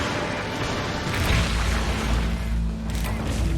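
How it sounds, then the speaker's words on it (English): A monster's explosion attack in Monster Hunter Generations Ultimate lands as a loud, broad crashing boom with a deep rumbling tail, heard alone among game effects. "it's the explosion attack"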